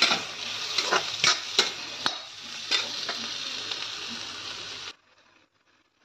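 Raw banana fry sizzles steadily in a hot pan for several seconds with a few clinks of stirring, then the sound cuts off into near silence.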